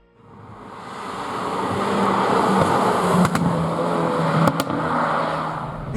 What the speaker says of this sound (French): ouvre donc des valves dans l'échappement pour avoir la sonorité beaucoup plus sportive